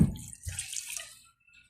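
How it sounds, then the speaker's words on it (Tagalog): Water pours briefly into a cooking pot of chicken adobo, a short splashing gurgle that tapers off after about a second. "dagdagan natin ng tubig"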